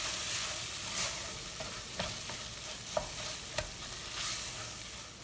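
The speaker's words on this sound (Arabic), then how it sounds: "نبدي نحرك" Onion and curry filling being stirred in a pan for fatayer, a soft scraping and stirring texture with a gentle sizzle and a few distinct spoon knocks against the pan, steady and close, with no talking.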